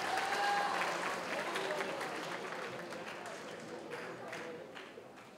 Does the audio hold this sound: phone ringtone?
no